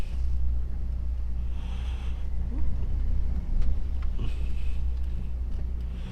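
Slow road traffic queues toward a roundabout in France in the rain, heard from inside a vehicle as a steady, heavy low engine rumble with faint passing swells and small knocks.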